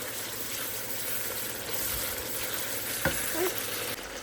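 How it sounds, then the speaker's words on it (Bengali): Spices frying with onion and chili along with ginger, garlic, turmeric, chili and cumin in a pan: a steady, loud sizzle runs throughout, with a couple of brief scraping stirs near the end and no talking. "পেঁয়াজ মরিচ দিয়ে ভেজে মশলাগুলো কষিয়ে নিচ্ছি"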